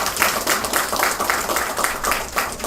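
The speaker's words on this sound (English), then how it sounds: "I'll give you a round of applause" Applause from an audience at an international conference, a steady dense wash of many hands clapping that holds at an even, fairly loud level throughout.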